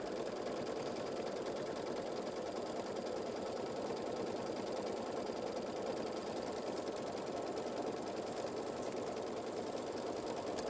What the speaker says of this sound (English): So we're just tacking our base fabric over our batting